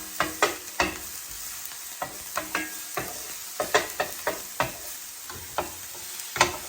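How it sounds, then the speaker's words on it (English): Chopped onions for ground beef sweating in a pan, with repeated sharp scraping and stirring clicks from a utensil in an irregular rhythm over a low, steady sizzle, close and moderately loud. "the onions for the ground beef are going to actually just get sweated down a little bit"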